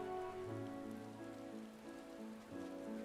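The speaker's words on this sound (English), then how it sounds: "How is this not snow? How is it raining?" Steady rainfall in Final Fantasy XIV: Endwalker pattering on surfaces as a continuous even wash, with sustained musical tones layered over it and no voices.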